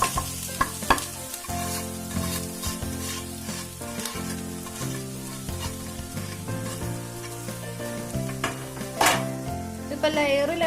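Cooked rice is tipped into hot ghee in a cooking pot and stirred, giving a steady sizzle with scraping and clinks over background music.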